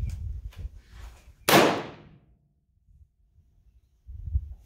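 A single sharp gunshot cracks from a .357 Magnum revolver loaded with rifle primers, loud and close, ringing briefly before decaying, with faint murmurs before and after.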